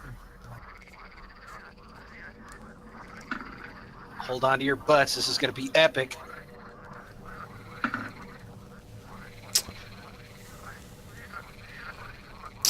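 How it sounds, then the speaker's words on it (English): Frogs croak through a tabletop role-playing game session, a burst of bubbly, repeated croaks in the middle with scattered calls later, over a quiet background and people talking. "There's frogs."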